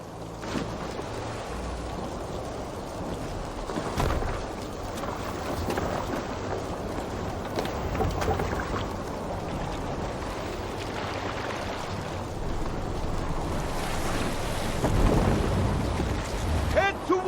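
Stormy sea in Assassin's Creed Valhalla, a Viking boat crossing toward Britannia: steady broadband roar of wind, rain and crashing waves with surges and heavy thuds, continuous throughout, with voices faintly under the storm.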